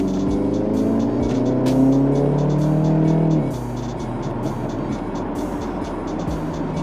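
A car in stock form drives steadily with a loud engine hum and road noise, easing off partway through; a voice speaks briefly over it.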